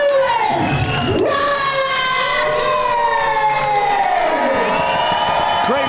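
A Waukesha wrestling arena crowd roars and cheers for the entrance of tag team champions Kal Herro and Al Snow. The noise is loud and steady throughout, with wailing, siren-like tones sweeping over it.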